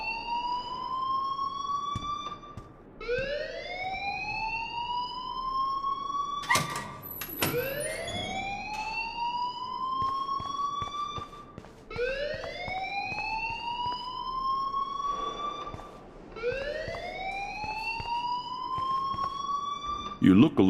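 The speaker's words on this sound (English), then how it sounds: "please turn off that alarm since that's your job" An electronic alarm in the video game Life Is Strange wails in repeated rising sweeps, several cycles of a loud siren-like tone over about twenty seconds, with a sharp bang partway through.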